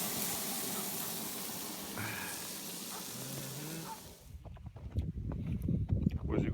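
Steak tips and bacon sizzle at a cold-weather winter camp in the Pacific Northwest Cascades, a steady close hiss of frying that cuts off partway through, giving way to faint clunks and knocks.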